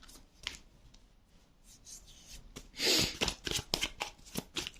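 Tarot cards being shuffled by hand, close and fairly quiet: soft riffling and rubbing at first, then a denser burst of quick flutters and slaps toward the end.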